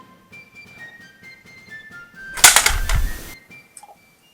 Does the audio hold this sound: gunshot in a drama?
yes